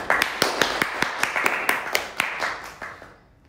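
Handclaps during a prank phone call, a dozen or so distinct sharp claps at a quick uneven pace that fade out near the end, fairly close and with no talk.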